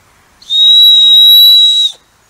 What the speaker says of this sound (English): took a piece of old deer antler and made a whistle